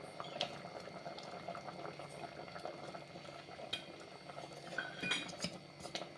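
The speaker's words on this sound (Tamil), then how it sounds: "இது போட்டு நல்லா கொதிக்கிட்டோம்" Mango pachadi with jaggery simmers in a pot, giving a low, steady bubbling with occasional light clinks of a utensil against the vessel.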